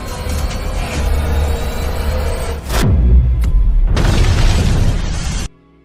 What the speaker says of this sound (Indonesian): memicu ledakan dahsyat yang menghancurkan gedung tempat eksperimen dilakukan